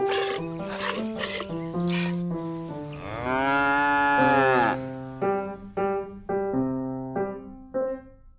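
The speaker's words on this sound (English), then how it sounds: "Big Blue milked a cow when he visited the farm." A cow moos in a long, loud, drawn-out low call in the middle, between stretches of a voice speaking in a slow, sing-song reading manner.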